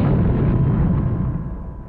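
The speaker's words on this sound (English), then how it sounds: "an enemy aircraft flew over their position and dropped a bomb" A World War I aerial bomb bursts near Amiens in a deep, loud rumbling blast that rolls on and slowly fades across the clip, with no voices.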